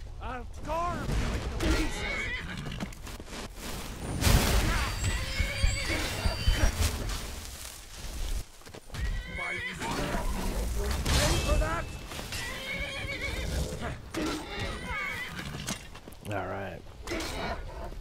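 A horse in the video game Skyrim neighs and whinnies repeatedly, with clip-clopping hooves and some combat clatter underneath, while someone talks over much of it.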